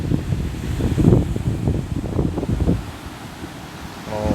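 Surf and ocean current rush at San Felipe beach in Zambales, with waves churning under heavy gusts of wind buffeting the microphone. The sound is loud and close at first and eases off toward the end.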